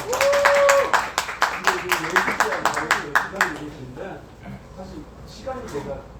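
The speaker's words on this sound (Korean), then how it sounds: "박수 한번 주세요" An audience claps through a live broadcast session, a dense burst of applause that thins into scattered claps, with a voice speaking over the tail.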